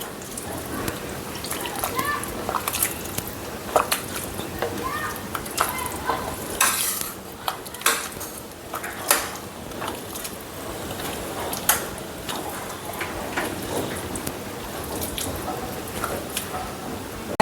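Cooked pav bhaji vegetables being mashed in a pot, giving repeated wet squelching and scraping strokes with occasional sharp knocks of the masher against the metal, steady and close throughout.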